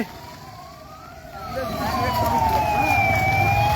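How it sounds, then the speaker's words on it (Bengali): An ambulance siren wails in long rising and falling sweeps, growing louder as it approaches, with a second siren tone joining partway through over traffic rumble near the scene of a collision between two trains. "আহতদেরকে হাসপাতালে যে একের পর অ্যাম্বুলেন্স ছুটে আসে"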